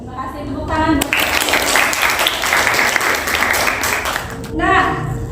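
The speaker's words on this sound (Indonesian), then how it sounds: "Terima kasih, tepuk tangan." A class of students applauds in a classroom, sustained clapping for several seconds, with voices heard briefly before and after.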